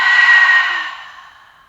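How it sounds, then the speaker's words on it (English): Open-mouthed exhale during yoga breathing, a single loud breathy whoosh that starts strong and gradually fades over about a second and a half, with no talking. "Pause at the top of the inhalation. Open up the mouth. Exhale."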